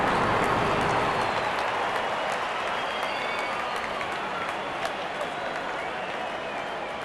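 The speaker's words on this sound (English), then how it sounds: "There's such a wonderful crowd in to watch their favorite players." A cricket crowd applauding a good shot, a continuous broad wash of clapping and crowd noise that holds steady for several seconds, with commentary talk underneath.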